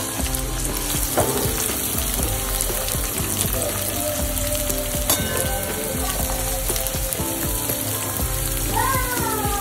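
Garlic and finely chopped onion for a dried prawn dish sizzle steadily in hot oil, a close, continuous crackling fry with occasional faint scraping of a utensil.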